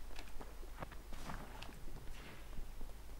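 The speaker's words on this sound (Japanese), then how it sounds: "足音聞こえる。" Footsteps in Apex Legends, a faint, irregular patter of light steps close by over a low steady background hum, no talking.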